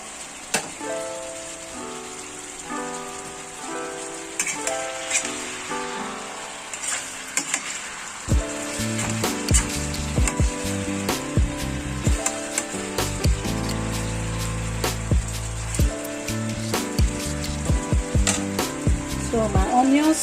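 Vegetables frying in a little oil in a pot over a gas flame, a steady close sizzle with crackles under music.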